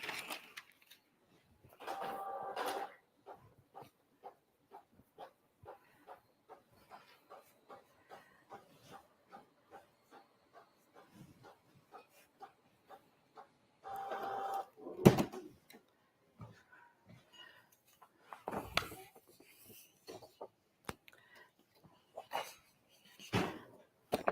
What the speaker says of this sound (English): Send to the printer.